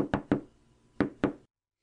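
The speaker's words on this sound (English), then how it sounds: "He knocks at the door." Knocking on a wooden door in a Snow White audiobook scene: two pairs of firm, close knocks with a short gap between the pairs. No speech is heard.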